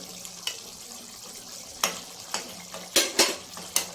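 A spoon stirs and breaks up tomatoes in a pan of chicken curry, giving scattered scraping clinks and a few sharp knocks against the pot over a faint sizzle, with no talking.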